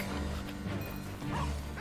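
Barking from a creature in the video game Final Fantasy XV, heard as a few short, loud barks mixed in with game combat noise, with no voice over it.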